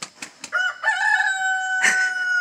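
A rooster crows loudly and close by in a backyard chicken flock, one long drawn-out call after a few short clucks and scratchy bursts.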